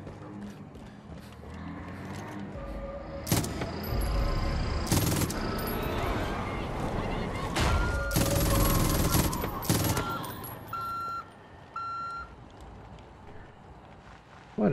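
Rapid bursts of machine gun fire in the video game Far Cry New Dawn, several loud sustained volleys broken by short pauses, layered with mechanical clatter and game effects.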